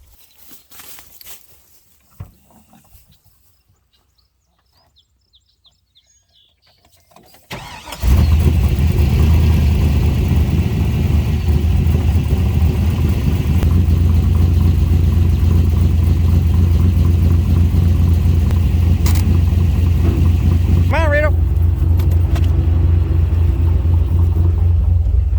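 A car, freshly restored and just given a splash of petrol, cranks and catches, then settles into a loud, steady rumbling run with occasional revs, close by and continuous after a quiet start.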